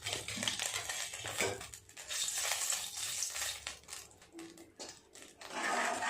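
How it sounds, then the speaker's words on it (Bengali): Green chili frying in hot oil in a pan, left over from frying fish tails, gives a steady close sizzle and crackle with occasional stirring scrapes and no talk. "এই তেলেই আমি একটু পেঁয়াজ আর একটা লঙ্কা ভাজা করে নেব।"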